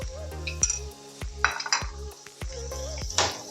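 Poha with added sugar gets stirred in a pan, a run of sharp spoon knocks and scrapes against the metal at a loose, steady pace, close and fairly quiet over a faint hum.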